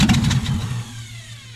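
A 1962 Ford F600 truck engine catches and fires after cranking, giving a quick burst of rough, uneven revving that settles into a lower steady running tone within about a second.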